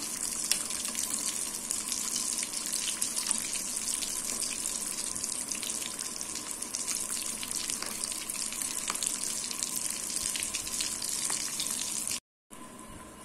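Potato bondas deep-frying in hot oil give a steady, dense sizzling hiss that runs unbroken and fairly loud, with a brief dropout near the end.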